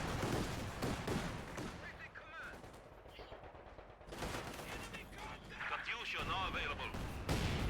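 Gunfire and artillery boom in Company of Heroes 2 during a late-game match, a busy mix of shots and blasts heard under continuous commentary.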